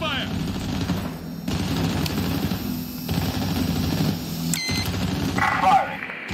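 Gunfire from Medal of Honor Warfighter in Mogadishu, Somalia, sounds as sustained rapid machine-gun bursts at moderate loudness, broken by brief pauses and mixed with game noise and a short electronic beep near the end.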